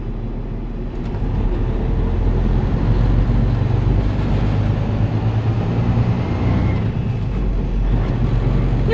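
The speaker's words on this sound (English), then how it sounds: "everything I'm doing right now is floating the gears" A truck rolls down the road as its driver floats the gears without the clutch, a steady loud low drone of engine and road rumble running throughout with no clear breaks.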